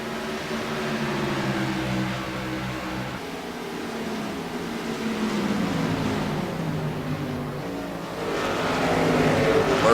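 Race cars lapping at Richmond International Raceway in a children's dream racer cup event, engines droning and rising in pitch as they pass, a continuous mid-distance roar swelling louder at the end.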